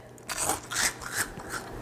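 Toasted gluten-free bread cubes crunch as they are stirred in a bowl, giving a close, steady series of crisp, crackling crunches with no talking.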